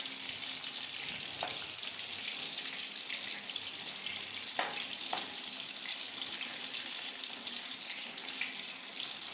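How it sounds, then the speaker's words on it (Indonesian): Tahu jeletot deep-frying in hot oil gives a steady, continuous sizzle, with occasional soft clicks as chopsticks stir and turn the pieces. "Aku sukanya itu bikin gorengan itu pakai sumpit, ngaduk-ngaduknya, ngebolak-baliknya tuh"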